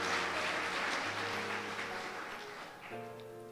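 An audience applauds at a religious talk, a steady wash of clapping that fades slightly over a few seconds, with sustained tones running underneath.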